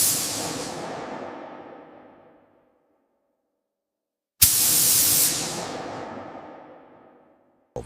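A robotic sprayer lays the red stripe on a CR450 high-speed train, giving two loud, long hissing spray bursts that fade out, separated by silence, with a third burst just starting at the end.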